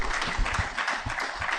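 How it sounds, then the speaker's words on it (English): A brief burst of audience applause at a launch event for an annual scan report, fairly dense clapping heard for just over a second with no voices over it. "Help me give Dr. Noria and the team another round of applause."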